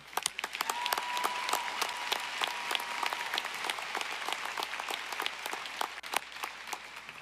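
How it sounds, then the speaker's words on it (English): A large crowd at a university commencement ceremony breaks into sustained applause, dense and even, with a few sharper individual claps standing out near the front before it briefly thins. "Oh, we should clap for Allison."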